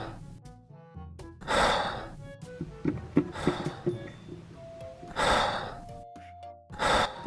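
A person imitates loud, heavy mouth breathing, producing several harsh breathy gasps and sighs in an uneven rhythm, close and fairly loud, with faint background sounds between them.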